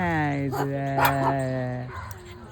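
Tailless dogs in a park greet an arriving guest with a drawn-out, tonal whine and yelp that settle into a few short barks, close and fairly loud, with a voice alongside.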